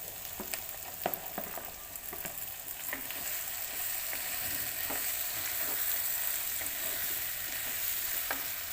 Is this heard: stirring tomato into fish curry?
yes